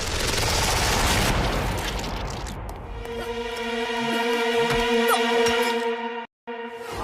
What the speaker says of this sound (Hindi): दीवार धमाका गन।